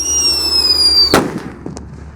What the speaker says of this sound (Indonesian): Lanjut yang kita nyalakan di lubang tanah, ada mercon Whistling Thunder.